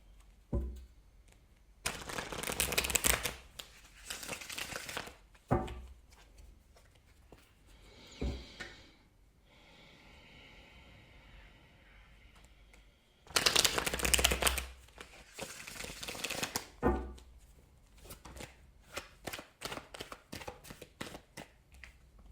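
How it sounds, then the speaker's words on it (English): Tarot cards riffled and shuffled in several loud, close bursts, with quieter handling and tapping between them and no talking. "Just want to make sure we're really shuffling."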